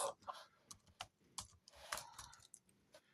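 Computer keyboard keys typed in irregular bursts of sharp, close clicks with short pauses between them, fairly quiet, while playing a Minecraft Bedrock modded session.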